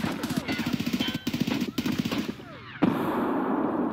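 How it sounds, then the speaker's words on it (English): Rapid automatic gunfire in Escape From Tarkov, repeated bursts of fast shots with short gaps, fairly close and loud, ending in a heavier blast, with people talking over it. "they're shooting on each other"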